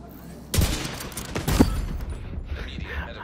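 Bursts of gunfire from the video game The Division 2, starting sharply and continuing as a rapid fusillade of close, loud shots with a heavy second volley, while players talk over the action.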